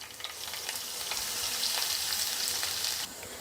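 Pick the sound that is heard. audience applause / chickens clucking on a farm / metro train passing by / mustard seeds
mustard seeds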